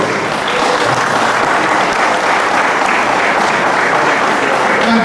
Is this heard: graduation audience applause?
yes